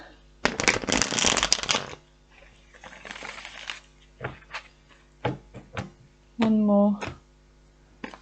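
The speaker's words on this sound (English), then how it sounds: "One more shuffle." A burst of tarot cards being shuffled close by, followed by scattered soft taps and a short hum of movement.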